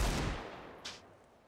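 Gunfire in a Counter-Strike video game match: a single sharp shot at the start that decays quickly, then a fainter second report shortly after, otherwise quiet.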